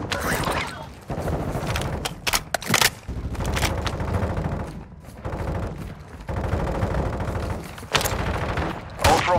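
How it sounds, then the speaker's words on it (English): Dense gunfire from a Call of Duty battle, bursts of automatic fire and single shots crowding together with booming impacts, loud and close, broken by a few short lulls. "You are taking effective fire."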